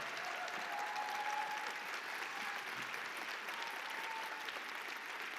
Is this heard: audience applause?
yes